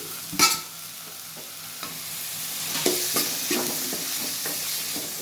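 Tomatoes sizzle in a pan with ginger garlic paste while a spoon stirs them, giving steady frying hiss with scraping strokes and a sharp clank near the start, close and loud, with no talk.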